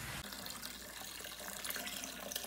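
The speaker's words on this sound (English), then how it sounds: "I have to attach it onto my bathroom sink and fill it up from there" A bathroom sink tap runs water into a Grainfather brewing unit, a steady close rushing and splashing flow that continues alone for the whole short stretch.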